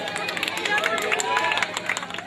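A live audience at a Malayalam comedy stage show applauding: a dense, steady patter of many hands clapping together, moderately loud and continuous throughout, with some crowd murmur mixed in.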